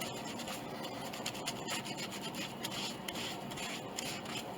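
Glue being wiped off the old flaking finish of an 1881 Steinway Model A piano's wood, heard as soft continuous rubbing and scratching strokes, quiet and close, with no talk.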